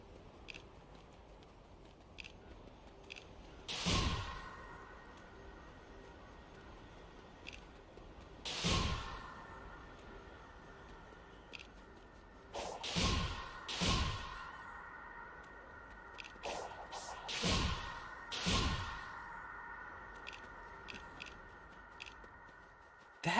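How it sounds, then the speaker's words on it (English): Sharp, stapler-like clicks from Sonic Frontiers gameplay, each a short bright snap standing out over a quiet game soundtrack, arriving irregularly every few seconds and sometimes in quick pairs. "That clicking sound is so annoying."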